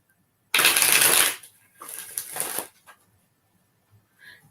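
Playing cards riffled and shuffled by hand for a tarot-style reading: one loud crisp riffle, then a softer second shuffle, and a faint tap near the end.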